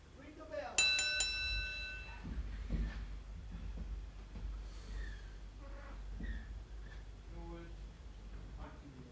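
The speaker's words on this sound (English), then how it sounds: "Ring the bell." A wrestling ring bell clangs loudly near the start of an independent pro wrestling match, its ringing tone fading over about a second before crowd murmur and voices carry on underneath.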